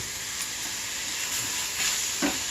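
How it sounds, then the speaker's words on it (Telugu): Chopped onions fry in hot oil until golden for a cucumber and onion curry, giving a steady close hiss and crackle with a few soft spoon scrapes through the pan. "పచ్చి వాసన పోయిన దాకా గోల్డ్ కలర్లోకి వచ్చిన దాకా వేయించుకోవాలి"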